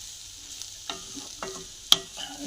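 A spatula stirs an egg dish with onions in a pan, giving soft intermittent scrapes and taps over a faint low sizzle, with one sharper clink near the end.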